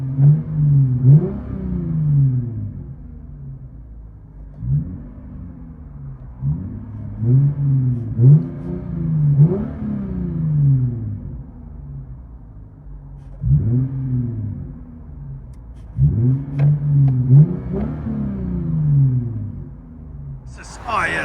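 Heard from inside the cabin, a 2014 Lexus IS 250 2.5L V6 with LCGP mid resonators, rear muffler delete and 4-inch tips revs repeatedly in a series of rising and falling pulls, moderately loud and deep.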